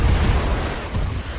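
EMP explosive torpedoes detonate underwater in the From the Depths naval combat game, giving a dense, loud, rumbling series of booms and bursts that run together throughout.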